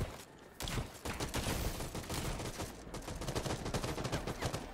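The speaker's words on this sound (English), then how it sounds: "They're getting shot at" Dense, continuous gunfire from the video game Hawked, many overlapping shots in a chaotic firefight that stay steady and fairly loud throughout, with no voices.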